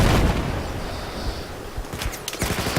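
Dense, continuous gunfire crackles through a team-based combat video game scrim, with sharper shot bursts near the end, loud and close with no talking.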